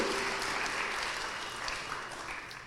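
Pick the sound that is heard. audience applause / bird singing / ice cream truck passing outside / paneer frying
audience applause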